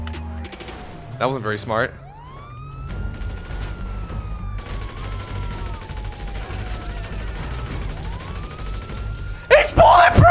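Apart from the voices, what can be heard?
gunfire shootout in GTA 5 roleplay video game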